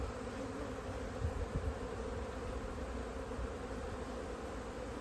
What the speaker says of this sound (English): Those are probably nurse bees